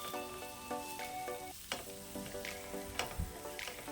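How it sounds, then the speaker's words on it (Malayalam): Chopped tomato sautés in a pan, with a soft sizzle under repeated scraping and clinking stirs from a utensil, close and fairly quiet, with tonal ringing touches. "ഒരു തക്കാളി എടുത്തേക്കണം, ഇതുപോലെ മുറിച്ചിട്ടിട്ട് നന്നായിട്ട് ഇളക്കി"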